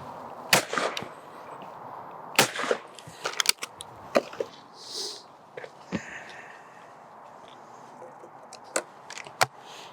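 Double-trigger shotgun fired at clay targets outdoors, sharp separate reports spread across the stretch, some in quick pairs, with faint distant voices and background noise between shots.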